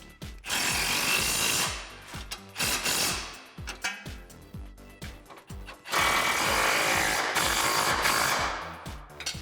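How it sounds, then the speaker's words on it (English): A ratchet tightens an 18 millimeter nut onto a suspension bolt during a lift-kit install on a 2009-2013 Ford F150. Loud, close, rhythmic bursts of clicking and grinding come in runs separated by short pauses. "we can tighten down this, again, 18 millimeter nut, 50 millimeter bolt head"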